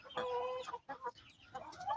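A one-year-old Black Australorp chicken clucks close by in a few short bursts of squawky calls, with brief pauses between, no talking.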